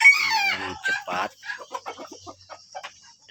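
Free-range village chickens cluck and squawk close by, opening with a loud rooster-like call followed by a run of short, choppy clucks that trail off in irregular bursts.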